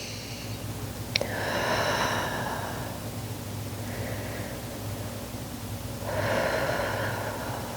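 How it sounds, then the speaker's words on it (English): Slow, deep breaths during a Pilates mobility session, a soft airy inhale and exhale rising and falling twice, close and gentle over a steady quiet room hum, with a brief tap near the start. "Two more deep breaths."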